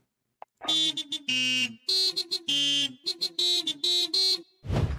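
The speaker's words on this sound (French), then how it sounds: "Regardez, on a même un klaxon." A novelty horn unlocked with the Ghost Ship pack in a video game blares a series of loud, tonal honks in a choppy melodic pattern, each burst held briefly before the next, followed by a short noisy burst.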